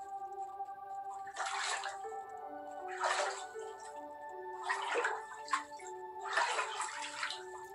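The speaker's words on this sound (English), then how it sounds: "Oh, I'm rowing a boat!" Oars sloshing through water as a boat is rowed in the video game Distraint 2, four evenly spaced splashy strokes roughly every one and a half seconds over a quiet ambient backdrop.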